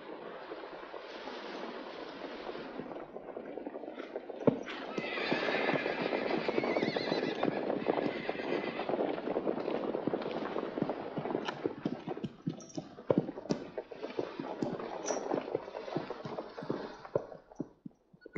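Horses neigh and whinny repeatedly while hooves clop in an uneven, busy rhythm, a loud cluster of animal calls in the middle over steady movement, with no voices.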